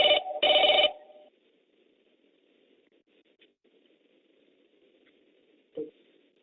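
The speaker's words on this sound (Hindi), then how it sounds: "बताइए, पहला फोन कॉल किसके साथ जोड़ रहे हैं," Telephone ringing as a call is put through during a televised interaction with party volunteers: two loud ring bursts at the start, then a quiet line hum and a brief click near the end.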